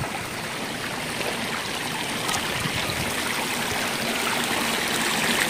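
A river stream flows over slippery, yellowing mossy rocks, a continuous rushing and trickling wash of water that is steady and moderately close, slowly swelling a little in level, with no voices.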